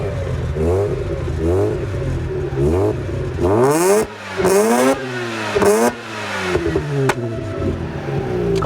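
Mazda RX8 rotary engine, warmed up on an icy day, revving repeatedly in rising and falling sweeps, loud and close, with sharp bursts of higher throttle in the middle.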